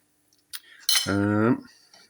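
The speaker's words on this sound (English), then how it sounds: "obviously cutting cheese on a plate with my knife, not ideal" A knife slices cheese on a plate, with a short scrape followed by a loud, tonal squeal of metal dragging across the plate that lasts about half a second, close up, with no voices.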